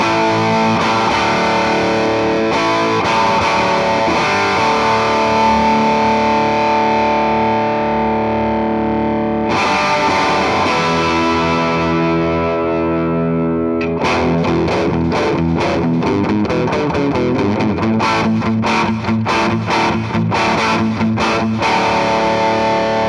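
Electric guitar through the lead channel of an Orange Rocker amp combo, heavily distorted with effects, playing sustained chords then rapid choppy riffs, loud and continuous with no talking.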